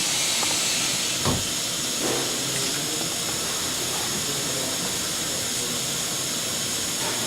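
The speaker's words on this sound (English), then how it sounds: "As you see, this system is rinsing." A Semitool 870-S spin rinse dryer hisses steadily as it rinses, giving a loud, continuous broadband spray with a few faint knocks underneath.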